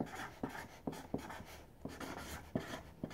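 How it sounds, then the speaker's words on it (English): Marker or pen scrawling across a cardboard game shipping box, with several quick sharp strokes and scratchy bursts spaced irregularly, close and moderately quiet, no voices. "But I'm also going to write on every box"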